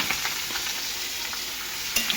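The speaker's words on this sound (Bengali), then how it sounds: "এইটা আমি ভাজবো আগে" Oil sizzles steadily in a kadai with about two spoonfuls of oil as an ingredient fries ahead of cooking dal, a continuous bright crackle with occasional stirring scrapes, close by and with no talk.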